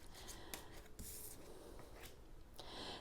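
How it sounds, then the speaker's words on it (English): Tarot cards are shuffled by hand in a series of soft papery riffles and brushing slides, with a few sharper snaps, close and quiet, and no voices. "We'll shuffle a little bit and we'll take 3 from here."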